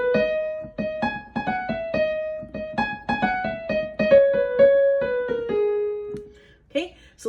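Part 4 of a synthesizer line, a slight variation on an earlier part: a run of sustained, bright synth notes stepping down in pitch, steady and close, ending with a brief different sound.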